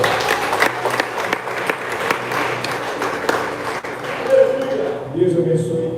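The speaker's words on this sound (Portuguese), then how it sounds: "Uma salva de palmas, Senhor." Congregation applause at a church service following a closing prayer, steady clapping mixed with voices for several seconds, fading toward the end as organ-like tones come in.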